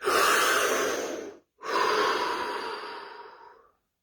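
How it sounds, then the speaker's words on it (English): Two slow, deep breaths during a relaxation exercise: a long, close airy inhale, a short pause, then a longer exhale that gradually fades, with no talking. "Deep breath."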